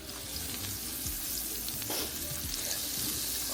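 A small knob of butter melting in a pan before garlic and onions go in for a shrimp boil, producing a soft continuous sizzle with faint crackles and a light scrape, steady and close with no talking.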